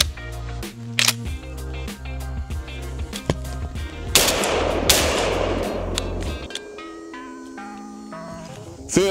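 A Panzer Arms M4 rifle with trigger malfunctions fires outdoors, sounding as a string of sharp, loud shots in uneven bursts with gaps, followed by a louder, noisier stretch and then sparse final shots.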